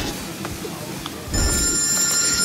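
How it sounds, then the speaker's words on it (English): A telephone starts ringing partway through, its bright electronic ring entering over a low room background at home with quiet household noise before it. "Here comes the phone."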